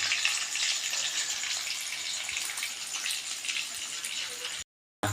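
Fish fries in a pan alongside a simmering fish curry, giving a continuous hissing sizzle at close range that cuts out briefly near the end.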